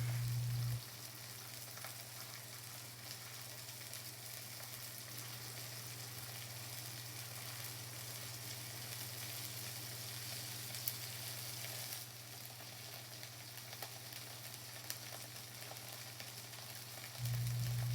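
Onions cook with crumbled sausage in a pan, giving a faint, even sizzle that runs steadily throughout with a low background hum, quiet and uninterrupted.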